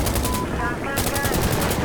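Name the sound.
gunfire in video game Insurgency Sandstorm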